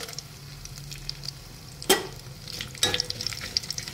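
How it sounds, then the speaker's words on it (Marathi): Grated ginger sautés in hot oil with cumin seeds and a bay leaf in a pan, cooking for a festival thali. A steady close sizzle runs throughout, broken by two sharp spatula scrapes, with no talking. "जिरं व्यवस्थित फुललं की त्यामध्ये 1 इंच आलं किसून घेतलेलं आहे ते घालूयात आणि परतून घेऊयात."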